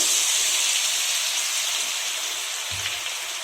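Boondi batter drops into hot oil on full flame for Tirupati laddu, giving a continuous bright sizzling hiss that fades slightly, with a brief low thump near the end and no talk.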